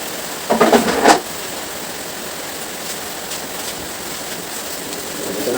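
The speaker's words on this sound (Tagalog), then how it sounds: "Mayroong ulan." Steady rain falls at night in a rural Filipino yard, a constant hiss of drops with a brief louder splashing burst near the start and no talk.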